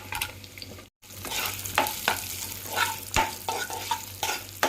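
Cashews and urad dal fry in oil in a pan for upma, giving a soft, steady sizzle with repeated scraping stir strokes, close and fairly quiet, with no talking.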